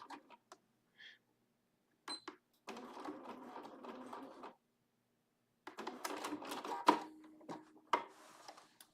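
Bernina sewing machine stitching in short bursts separated by pauses, with quick mechanical needle chatter at moderate closeness and a few clicks and handling sounds between runs.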